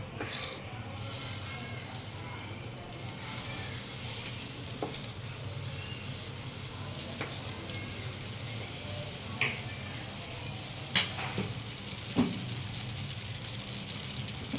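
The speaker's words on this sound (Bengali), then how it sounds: "কোনো রকম তেল দেবো না এমনি ভেজে নেবো" Semolina dry-roasting in a pan with no oil gives a faint, steady sizzle and soft scraping throughout, with a few brief ticks of a spoon or spatula against the pan.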